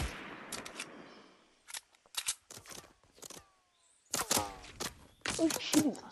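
Players on a distant hill fire guns in Fortnite's Blitz squads mode. Short, sharp bursts and single shots come in scattered clusters at moderate volume, mixed with players talking.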